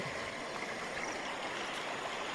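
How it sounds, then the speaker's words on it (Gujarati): The Malan River rushes in a steady, even roar of flowing current after heavy rain, continuous and unbroken, with no voices. "મોટા કુટોડાની માલણ નદીમાં પાણી આવ્યું છે"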